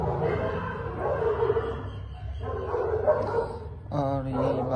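Pet dogs bark in short bursts near a Hindi-speaking household, mixed in with ongoing conversation and background noise.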